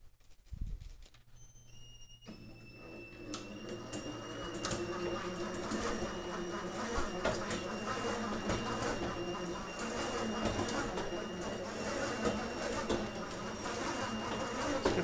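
An electric motor drives a mechanical power multiplier linked to a back wheel, spinning up after a quiet start into a steady, busy mechanical whir with rapid ticking and faint high whine, continuous and close.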